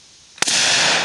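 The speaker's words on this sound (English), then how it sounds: "I'm going to shoot that 55-gallon drum right there." A 12 gauge pipe gun fires a 2 3/4 inch target load of number 8 shot at a 55-gallon steel drum: one sharp, loud blast that then hangs in a long broadband roar.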